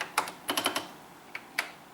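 Keys clack on a Dick Smith System 80 (Video Genie) retro computer keyboard with a few slightly sticky, yellowed keys: a quick cluster of soft taps, then two isolated presses, faint and close.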